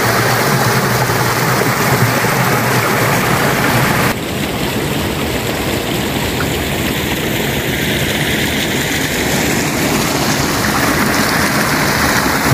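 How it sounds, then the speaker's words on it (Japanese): Spring water flows steadily from a natural source on a spring morning, a continuous close rushing and splashing that runs without a break for the whole stretch, a brief shift in level partway through, with no voices. "水の音が心地よいのでしばらく楽しみます。"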